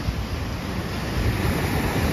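Sea waves break against a pier, a loud, continuous roar of surf and rushing water mixed with wind buffeting the microphone.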